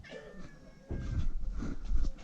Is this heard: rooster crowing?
no